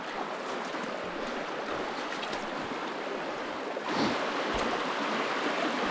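Rapids in a mountain stream rush and churn in a dense, steady roar of flowing water, close and loud, with no voices.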